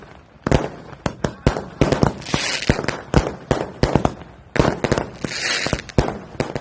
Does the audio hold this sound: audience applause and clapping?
no